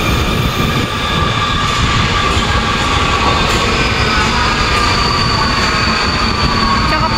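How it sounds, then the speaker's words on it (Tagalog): A Budapest metro train, apparently driverless, rolls into a station with a steady loud rumble of wheels and carriages, a faint high squeal riding on top throughout. "2 to 4 minutes, dumadating yung metro"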